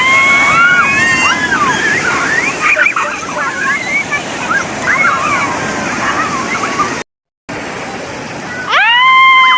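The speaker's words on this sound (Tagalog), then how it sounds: "Ayan na, lumalaki na naman ang wave." Loud rushing surf of big storm waves crashing continuously at sea, with excited voices shouting over the roar; a brief dropout near the end.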